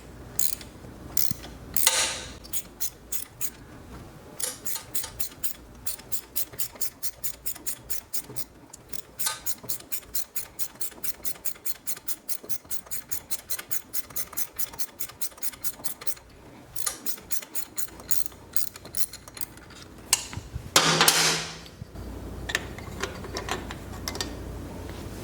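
A back tap is turned slowly in stripped spark plug threads to restore them, giving rapid, even ratcheting clicks close by that run nearly continuously, with a few louder scraping bursts and no talk.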